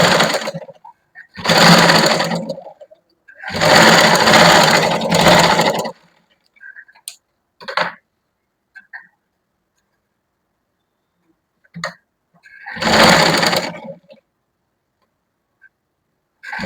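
A sewing machine stitches the shoulder seams of a lined kurti in several short bursts of fast, rattling whir, close and loud, separated by silences and a few faint clicks.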